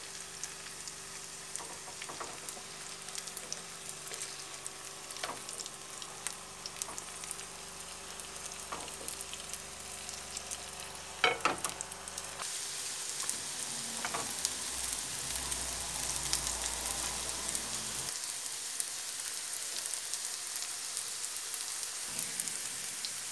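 Vegetable burgers made from leftovers fry in a pan with a continuous crackling sizzle. Scattered pops run throughout, and the sizzle grows brighter and louder about halfway through as the cooking goes on, with no voices.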